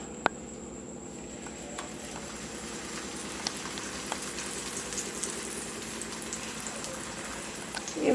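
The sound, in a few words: paratha frying in a kadai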